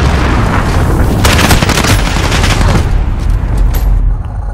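In Call of Duty: Modern Warfare, an allied cruise missile strike rumbles in as a loud, dense roar of booming blasts and rattling gunfire, fading in the last moments.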